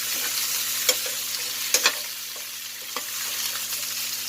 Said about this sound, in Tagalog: I-mix lang natin para mag-absorb ang ating nilagay na onion at saka garlic sa ating meat.